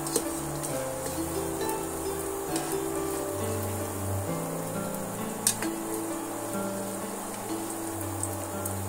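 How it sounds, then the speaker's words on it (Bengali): Egg and flour rolls frying in a hot pan give a steady, close crackling sizzle with fine spattering pops throughout, plus an occasional faint clink. "এইভাবে ভাজা করে নেব।"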